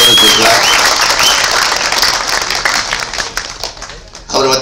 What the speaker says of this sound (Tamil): அவருக்கு ஒரு கைத்தட்டி பாராட்டு தெரிவிச்சுக்கலாம்.